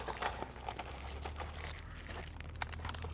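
A wartime food ration pack's plastic wrapper crinkles and crackles as it is torn open, close and quiet, with steady rustling and a few sharper snaps.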